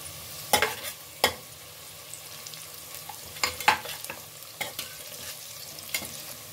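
Spices get stirred into onions frying in a pressure cooker for egg biryani: a quiet sizzle under a series of sharp spoon clinks and scrapes against the metal, scattered irregularly.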